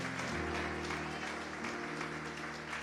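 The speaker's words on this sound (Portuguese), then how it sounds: "dar a sua melhor salva de palmas para esse Jesus aqui" A church congregation claps in praise during a revival service, a continuous moderately distant applause over sustained musical chords.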